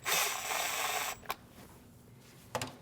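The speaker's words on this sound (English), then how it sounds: "Start by putting this Phillips screw in the back side over here. Tighten it, but don't tighten it down all the way." A Phillips screw being driven into the plastic splash shield of a 2012-2016 Honda CR-V, a loud rushing scrape at first, then two short sharp clicks with a hushed gap between them and no talking.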